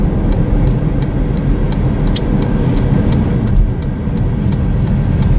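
A car drives through the small town of Bardin, Florida, with loud, steady engine hum and road rumble heard from inside the vehicle throughout.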